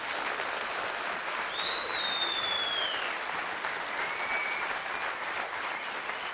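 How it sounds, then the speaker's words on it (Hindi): Loud, sustained applause from a seminar audience at a motivational sales talk, a dense continuous clatter of clapping hands with a few whistles rising over it. "जोरदार ताली बजा दीजिए उसके लिए।"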